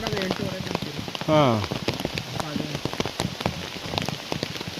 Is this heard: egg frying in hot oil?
no